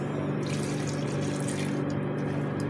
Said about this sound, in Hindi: मैं खुद भी इस वक्त देख के पानी डालना चाहूँगी